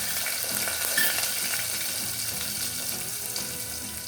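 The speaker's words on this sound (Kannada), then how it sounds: "ಸಾಸಿವೆ ಕಾದು ಚಟಪಟ ಅಂತ ಸೌಂಡ್ ಮಾಡ್ತಾ ಇದೆ" Mustard seeds and urad dal crackle and sizzle in hot oil while tempering for rasam, a steady, dense spluttering that stays close and even throughout with no voices.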